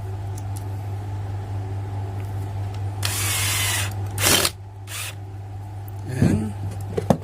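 A Bosch GSB 180-LI 18V cordless drill drives a screw in two short bursts of whirring, the longer one first and a brief second spin after, over a steady background hum.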